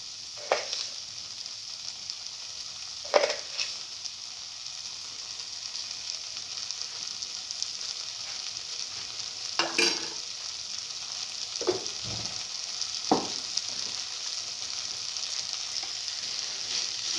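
Sugar is stirred into watermelon milk vermicelli in a pan, giving a soft steady background hiss with a handful of faint scraping strokes and light clinks scattered throughout.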